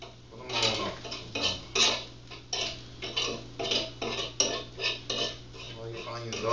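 A metal utensil scrapes and taps repeatedly against a pan while sautéed onions are pulled off for a smoked turkey sausage pizza, a quick irregular clatter up close and fairly quiet.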